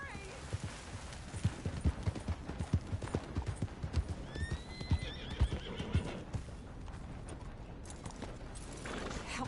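Horse in Red Dead Redemption 2 clip-clopping at a steady gallop with a loud neigh partway through, while someone shouts and pleads over the hoofbeats.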